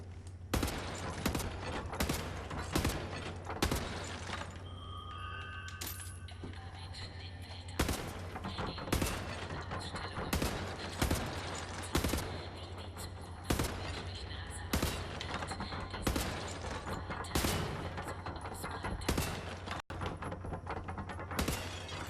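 Gunfire in the first-person shooter Wolfenstein: The New Order, loud bursts of rapid automatic shots repeating in quick volleys with metallic weapon handling, while someone talks over the shooting.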